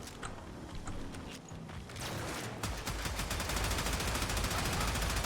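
Rapid automatic gunfire in the video game Warframe, starting with scattered shots and building into a dense, continuous burst of loud repeated blasts.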